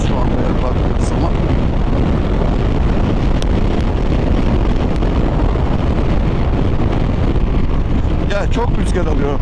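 Heavy wind buffets the microphone continuously while riding a KYMCO DTX 360 maxi scooter at speed, a dense roaring rumble with occasional sharper gusts and faint voice fragments underneath.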